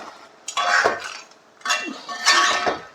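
A crab roast is stirred in a pan in two bursts of scraping and clinking of a metal spoon against the pan, loud and close, with quiet pauses between.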